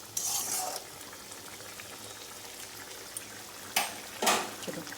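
Curry frying in a pan is stirred with a utensil, giving soft scraping strokes and brief sizzling bursts over a quiet kitchen background, with a few sharper spoon scrapes toward the end.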